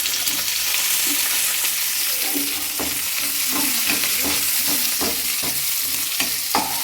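Sliced onions frying for restaurant-style chilli paneer, a loud steady sizzle in a hot pan with repeated scraping stirs throughout.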